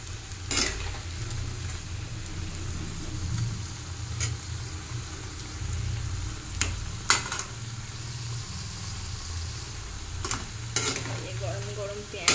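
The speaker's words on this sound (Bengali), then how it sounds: "আর এখানে পেঁয়াজি ভাজা হচ্ছে।" Onion fritters (peyaji) frying in a pan, a steady close sizzle of hot oil with intermittent sharp scrapes and clinks of a utensil stirring, under a low rumble of traffic in the background.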